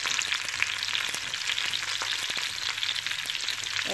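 Okra fries in hot oil with a steady, close sizzle and a few soft stirring clicks, no voices.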